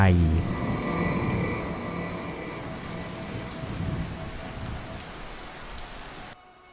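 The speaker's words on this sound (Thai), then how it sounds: "ที่ฝนได้ตกลงมายามดึก" Steady rain pours down at night in a dense, even hiss, with occasional heavier patter, continuing without a break until it cuts off abruptly near the end.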